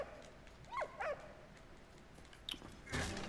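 A dog in the World War I video game Valiant Hearts: The Great War gives a couple of short yips and whimpers, quiet under soft game ambience, followed by a few light clicks and thumps.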